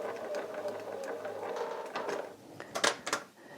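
A sewing machine stitches over a bulky fabric seam, running in a steady mechanical whir that turns into a few sharper, louder clunks near the end.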